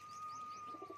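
A pigeon gives a soft, brief coo, faint and alone, amid quiet chirps at a pigeon show.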